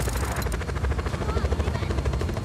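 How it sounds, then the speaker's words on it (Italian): Enemy helicopter in the video game Just Cause 4, a loud, close rotor chop thumping in a fast steady rhythm with a high whine above it. "Attenzione, il bersaglio è in elicottero."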